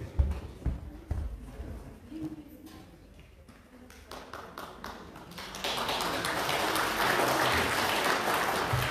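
A church congregation claps during a Sunday service. Scattered taps and knocks come first, then a steady round of hand clapping swells and carries on strongly to the end.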